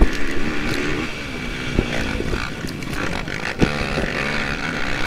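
Off-road motorcycles idle and rev together at the start line of a GNCC cross-country race at Big Buck in 2014, a dense, continuous engine drone with a few sharper throttle blips.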